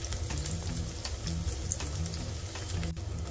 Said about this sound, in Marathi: तेलात पनीरचे तुकडे ठेवूयात एक एक करून। दोन्ही साइडने या पद्धतीने गोल्डन ब्राउन करून घ्यायचे आहे।